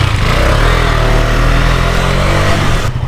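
A motorcycle engine running loud and close with a steady low throbbing idle rumble that holds throughout, then a slight drop at the very end.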